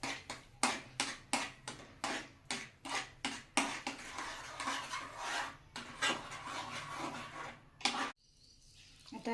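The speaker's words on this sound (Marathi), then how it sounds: "आता हे चांगलं मिक्स करून घेते आधी." A spoon stirs sugar into semolina sheera in a pan, making a run of close, regular scraping rasps and taps that end abruptly near the end, with no voices.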